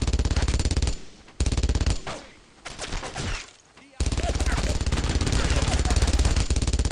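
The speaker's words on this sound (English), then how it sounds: "There's another MG42 up the road, okay." An MG42 machine gun in the Brothers in Arms World War II video game fires in long rapid bursts, loud and close, with a brief gap in the middle filled by distant gunfire and battle noise.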